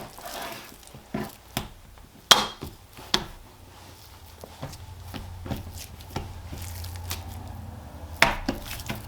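A knife chops and trims a whole top sirloin on a cutting board, giving sharp irregular thuds and cuts that come close and fairly loud, with quiet squishy handling of the meat between strokes.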